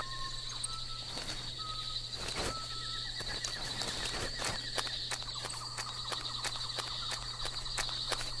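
Horses gallop and whinny in the video game Metal Gear Solid 3, with hoofbeats clattering over steady insect chirps and a low hum, snorts and neighs breaking out repeatedly throughout.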